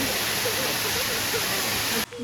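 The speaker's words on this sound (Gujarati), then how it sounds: "જો આ બીજો આવ્યો છે આપણે વોટરફ્લો, જોઈ લો કેમ છે એવું મસ્ત." Steady rushing water of a waterfall, a constant broadband roar that holds evenly and then cuts off abruptly near the end.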